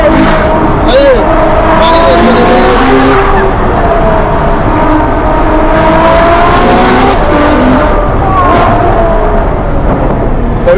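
Ferrari with an 800 hp engine driving steadily, its continuous engine drone loud and close throughout, with occasional tire noise and someone talking over it.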